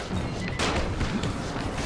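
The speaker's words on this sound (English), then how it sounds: "Yep. Firecrackers." Firecrackers go off in Dying Light, a dense burst of overlapping cracks and pops with a heavier bang partway through, loud and close against a rumbling background.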